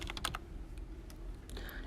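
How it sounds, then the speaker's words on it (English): Quiet, irregular clicks of fingers tapping a computer keyboard in short bursts, close by, with no talking. "Now, when I was typing"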